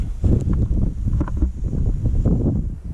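Gusty wind buffeting outdoors at an airfield on a blustery day, a low rumbling roar with uneven bursts against the microphone, loud and close with no talk.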